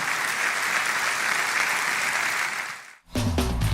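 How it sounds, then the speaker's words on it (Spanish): A church congregation applauds after a sermon, steady, full clapping for about three seconds that dies away abruptly, followed by a different, louder low-pitched sound. "Dale un aplauso al Señor."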